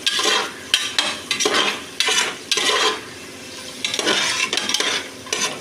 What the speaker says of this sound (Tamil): வெங்காயம் போட்டாச்சு. நல்லா மிக்ஸ் பண்ணிக்கலாம்.